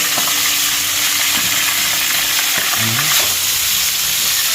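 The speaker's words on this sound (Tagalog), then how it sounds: "kasalukuyan na po tayong nagpiprito ng ating mga nahuling isda" Freshly caught fish sizzling and crackling in hot oil, a loud continuous frying hiss with occasional soft scrapes and clinks from stirring.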